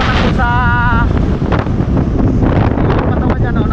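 Strong wind gusts across a riverside in Batangas, roaring steadily into the microphone as a loud, rushing blast, with a brief voice-like tone near the start.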